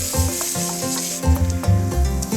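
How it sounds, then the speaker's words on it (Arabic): Onions frying in hot oil in a pan for a Mexican-style taco lasagna give a steady, fairly loud sizzle, with a low rhythmic tonal pulse running underneath throughout. "لازم أحمر الزيت بالمقلاية شوي لأقدر أقلي البصل"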